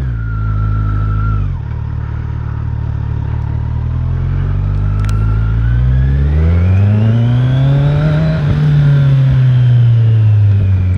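A Kawasaki Z900 motorcycle ridden in traffic with its exhaust removed, the raw engine idling loudly, then revving and accelerating through rising and falling pitch sweeps, close and dominant throughout.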